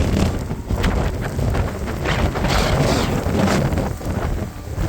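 Strong wind on John Gardner Pass in Patagonia, Chile, blasting continuously and loudly for several seconds, roaring and buffeting against the microphone, with no voices.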